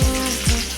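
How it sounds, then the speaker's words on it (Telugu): Spices and chopped onions sizzle and crackle in hot oil in a home kitchen pan, a steady close frying hiss with a couple of brief louder bursts as ingredients hit the oil. "పోపులు, ఉల్లిపాయలు వేసి"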